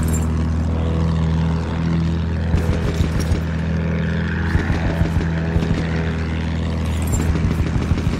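A propeller warplane in the video game Battlefield 1 drones loudly with a steady engine hum, as bursts of gunfire and impacts crackle intermittently over it during aerial combat.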